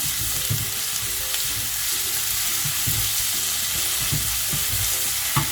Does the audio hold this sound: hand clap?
no